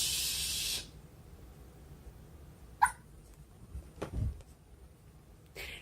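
A small Shih Tzu gives a couple of short, faint yips in a quiet indoor room, spaced a few seconds apart after an initial burst of hiss.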